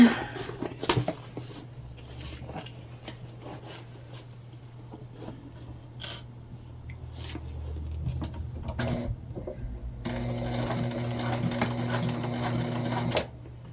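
A sewing machine stitching a multi-panel tote bag, starting with scattered handling clicks before the motor hums into a steady, close, rapid stitching run that grows louder toward the end.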